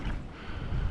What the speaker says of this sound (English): I wish it wasn't windy for the filming